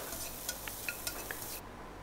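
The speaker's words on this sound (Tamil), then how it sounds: "அந்த மசாலா கூட நல்லா மிக்ஸ் ஆகிற மாதிரி கிண்டி விடுங்க." Paneer cubes being stirred with masala in a pan, a few soft scrapes and clicks of the spoon over a low, faint sizzle that cuts off near the end.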